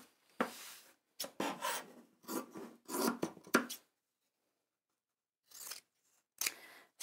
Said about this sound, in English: Crunching of quality sharp scissors through fabric.